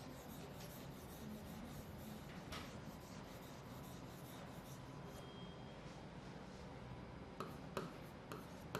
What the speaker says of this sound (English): I'll just erase this